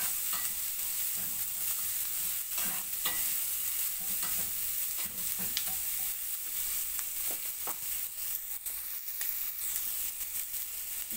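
Vegetables frying and sizzling steadily in a pan for a simple Filipino vegetable dish, with repeated scraping and stirring strokes from a utensil throughout; no talking.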